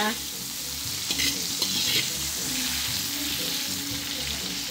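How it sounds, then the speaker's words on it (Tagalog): Seafood sautéing in butter in a pan gives a loud, steady sizzle close up, with stirring and scraping noises over it. "Ayun, magigisa muna kami. Ayun, ito may butter na siya."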